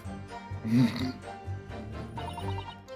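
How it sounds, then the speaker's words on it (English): Snoring from a sleeping character in the courtroom adventure game The Great Ace Attorney, a few slow drawn-out breaths mixed with other game sounds and a voice nearby. "all I could hear was snoring"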